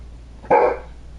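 A person imitates a dog with one short, loud woof-like bark, close and alone against a faint background hum.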